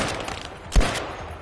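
A single sharp gunshot in the video game Battlefield 5, a loud thud-like crack standing out against a steady hiss of battle ambience, with a brief tail afterward.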